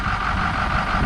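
A 2007 Ford 6.0 diesel engine idling with the turbo plugged in, a loud, close, steady rumble with a constant droning tone and no voices over it.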